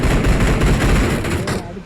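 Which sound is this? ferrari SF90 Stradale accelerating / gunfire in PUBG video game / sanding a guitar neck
gunfire in PUBG video game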